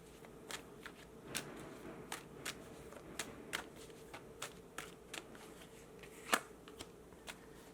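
Tarot cards shuffled in a steady series of soft riffling flicks and snaps, close and fairly quiet, with one sharper slap near the end and no voices.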